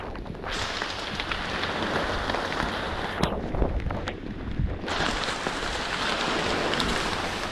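Heavy drops patter constantly on leaves and surfaces in the Amazon rainforest in a dense, hissing wash, with a brief lull midway before the downpour noise resumes.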